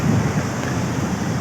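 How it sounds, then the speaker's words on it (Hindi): A high waterfall in a Kashmir valley near Domail, a steady broadband rush of falling water with no pauses, loud and close. "बहुत ही सोहनी अबशार आ रही है जनाब।"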